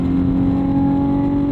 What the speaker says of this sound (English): this exhaust is so loud